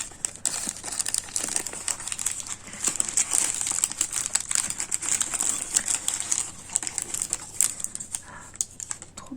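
A doll handbag label wrapped in paper is unwrapped by hand, giving close, busy paper crinkling and rustling in irregular bursts with brief pauses.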